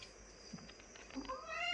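A house cat meows indoors near its cat food, a faint, short meow rising toward the end over quiet room hiss.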